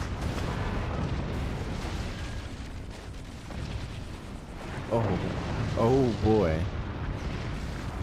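Howitzer artillery fire and explosions in a video game, a steady rumbling stream of booms and bursts, with someone speaking briefly over the top.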